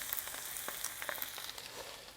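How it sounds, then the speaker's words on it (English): Soft, steady crackling and sizzling of Brussels sprouts frying in a non-stick pan, faint and close, with a few small pops scattered throughout. "This is a non-stick pan, so it should work fast. I can see that it doesn't stick. I want to start frying it."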